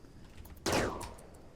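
A single sharp gunshot from the Rimworld video game cracks out loud and close, then fades over a short decay against a quiet background.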